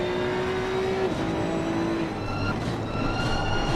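GT2 race cars lapping Imola in a racing video game, engines droning steadily and loudly throughout, with the pitch stepping down midway as the cars shift and a lower engine joining toward the end.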